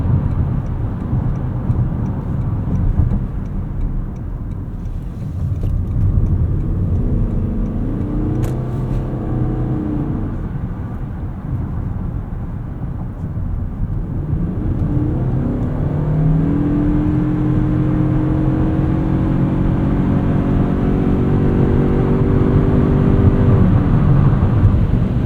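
A 2025 Toyota Crown Signia in sport mode accelerates through corners, its engine drone rising and falling in pitch under steady road and cabin noise, heard from inside the car without talking.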